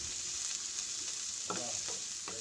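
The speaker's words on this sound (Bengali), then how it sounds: "এখন আমি এটা নেড়ে চেড়ে নিচ্ছি।" Carrots and other vegetables for restaurant-style fried rice being stirred in a hot pan, a steady sizzle broken by a few scraping strokes of the spoon near the end, close up and alone.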